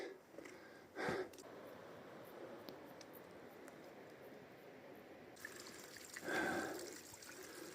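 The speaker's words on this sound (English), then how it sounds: "You know you're getting near a spring when you see this kind of thing." Mountain spring water trickles faintly and steadily near a hiking trail in the Slovak mountains, with two brief louder splashes or footsteps and soft rustling.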